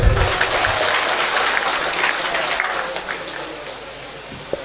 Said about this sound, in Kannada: ಒಂದು ಚಪ್ಪಾಳೆ ಹೊಡಿರಿ ಭಕ್ತರೇ.